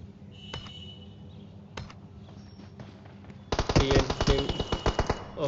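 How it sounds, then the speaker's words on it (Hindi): Gunfire in a battle royale video game: sparse single shots over a low background hum, then a loud, rapid burst of automatic fire packed with sharp reports. "बहुत ज्यादा फायर आता हुआ"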